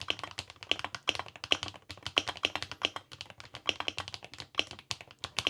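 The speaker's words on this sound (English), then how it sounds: "And this is what my custom Wooting sounds like with the stock keycaps." Close, steady typing on a custom Wooting 80HE gaming keyboard with a zinc alloy case and stock keycaps, producing quick irregular clacks and taps in short bursts with no voices.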